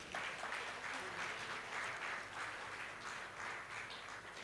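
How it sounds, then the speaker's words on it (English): A room full of people applauds steadily, with the clapping holding at an even level for several seconds. "another round of applause"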